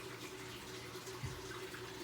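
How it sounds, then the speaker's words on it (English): Floodwater moves through a flooded basement as a faint, steady rushing and trickling wash with a low hum underneath, continuous and fairly distant. "the water is literally, you can probably hear it"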